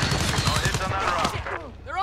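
Custom AUG rifle firing in Modern Warfare: a quick burst of sharp, rapid shots over the first second, mixed with game voices and chatter that continue after the firing stops.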